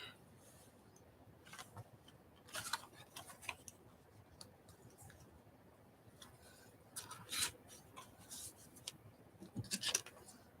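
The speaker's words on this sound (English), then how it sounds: "Those are rosemary scissors." Scissors cut paper in short, quiet bursts of crisp snipping, several separate cuts spaced over the span, close by in an otherwise hushed room during journal construction.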